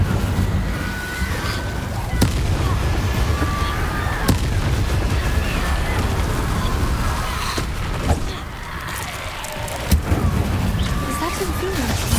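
Incendio, a fire spell in Hogwarts Legacy, fires as sharp, punchy bursts several seconds apart over a rumbling battle din, with voices present.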